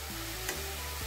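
Jhuri bhaja fries in hot, frothing oil in a pan, a close, steady sizzle with short scraping strokes as it is stirred, and no voices.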